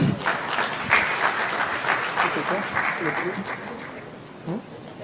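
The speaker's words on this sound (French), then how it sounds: "nous vous demandons d'applaudir pour les lauréats" Audience applause, a steady wash of clapping hands lasting several seconds at moderate loudness, with no talking over it.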